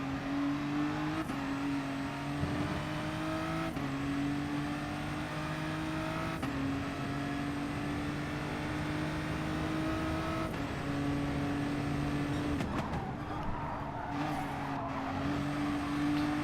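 Racing video game cars with engines holding high, droning notes that drop at each gear shift every few seconds, with tyre scrubbing and a brief skid, continuous and loud without talk.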